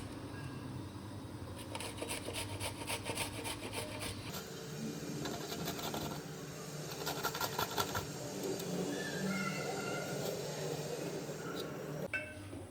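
Raw mango being grated on a hand grater makes a steady scraping, rasping rhythm, close and faint, with repeated strokes and no talking.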